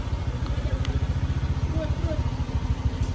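A motorcycle engine idles and putters at low speed in a parking area outside a mosque, a steady close chugging pulse with faint clatter, while a voice talks over it.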